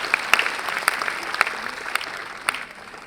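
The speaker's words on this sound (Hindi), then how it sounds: "जोर से ताली बजाइए अगर आपने ताली बजानी है" An audience at a healthcare conference at AIIMS Rishikesh breaks into applause, a dense wash of clapping with a few sharper individual claps standing out, sustained at an even level for about three seconds.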